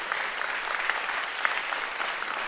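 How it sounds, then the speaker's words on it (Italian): Audience applause at an Italian talk and book event: dense, steady clapping from an indoor crowd that holds at an even level for a couple of seconds. "Facciamo un applauso a Francesca che è una volontaria."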